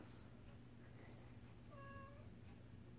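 Faint meowing from a pet cat shut outside a room, one clear drawn-out cry standing alone over a quiet steady room hum.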